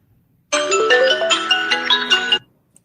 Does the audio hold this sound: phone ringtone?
yes